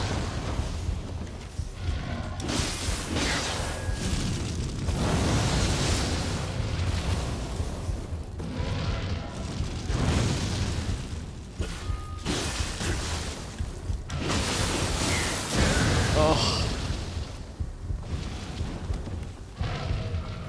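Explosions in the video game Nioh 2 burst out again and again, each one a loud broad boom set apart by short lulls.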